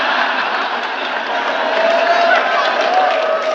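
Crowd reaction at a FlipTop rap battle, a dense steady roar of cheering and voices sustained throughout at a loud, even level.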